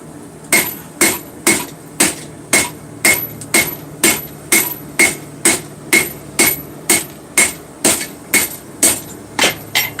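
A hammer strikes hot metal at a steady rhythm, about two loud ringing blows per second with no pause, while the waist of a forged cell phone stand is drawn down on the anvil.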